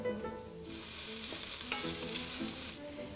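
Lardons and minced onion sizzle in a little oil in a pot for boeuf bourguignon, a hiss that swells suddenly and holds, with a few light clinks and faint background tones.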